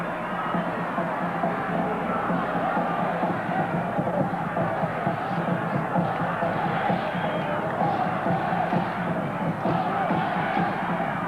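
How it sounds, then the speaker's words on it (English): Home crowd at a 1981 under-20 World Cup football match between Australia and Argentina, a steady, dense roar of cheering and murmuring voices filling the stadium, with no commentary over it. "Support from the home crowd here."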